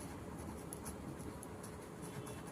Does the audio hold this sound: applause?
no